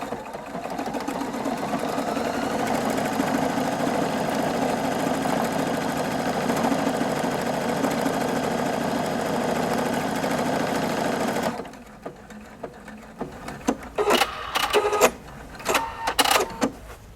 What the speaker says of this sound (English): when I'm ready to go, I can just start sewing